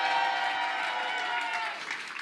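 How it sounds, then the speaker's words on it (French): An audience at a French award event for education union activists applauds loudly. The continuous broadband clapping holds steady, then fades and thins near the end. "On peut les applaudir bien fort"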